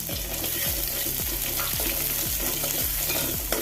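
Finely chopped large onion with crushed garlic frying in hot oil for a Kerala-style sardine curry, a steady close sizzle broken by repeated scraping stirs of a spoon through the pan, with no talking.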